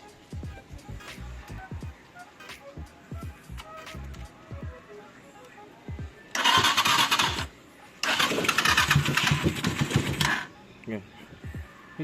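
Several sputtering, cranking motorcycle engine starts on a cheap carburetor burst out loudly in two long stretches, with quieter clattering and a voice talking in between; water comes from the exhaust.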